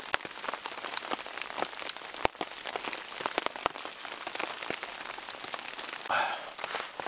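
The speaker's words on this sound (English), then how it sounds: "But it is morning, and it is still raining." Morning rain falls steadily on a canvas tarp shelter over a log camp, a dense patter of close drops with sharper individual taps scattered throughout, no voices.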